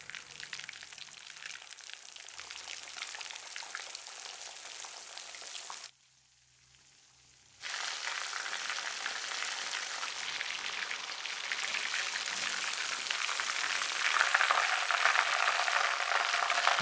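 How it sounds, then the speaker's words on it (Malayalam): Chicken deep-fries in hot oil over a medium flame with a steady, fine crackling sizzle that cuts out for about two seconds, then returns somewhat brighter and stronger, close and with no voices. "ഇനി ഒരു മീഡിയം ഫ്ലെയിമിൽ 15 മിനിറ്റ് നേരം ഇത് ഫ്രൈ ചെയ്തെടുക്കാം"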